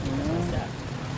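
Light rain falling outdoors, a steady soft patter and hiss close by, with a voice briefly audible over it.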